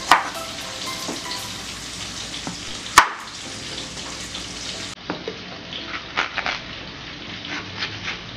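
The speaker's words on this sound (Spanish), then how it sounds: "estuvimos friendo lo que es el ajo, chile serrano y la cebolla" Garlic, serrano chili and onion fry in a pan with a steady close sizzle, broken by utensil scrapes and a sharp knock partway through.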